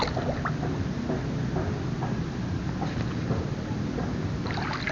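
Choppy sea water churned by passing motorboats sloshes and laps continuously, with a steady wash of wind and spray and occasional small splashes, fairly loud and close throughout.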